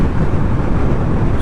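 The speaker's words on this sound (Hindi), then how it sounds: "बहुत ही ज़्यादा विंड ब्लास्ट है।" Strong wind buffeting a microphone outdoors on a road journey, a loud continuous low rumble with gusty fluctuations and no other clear sounds.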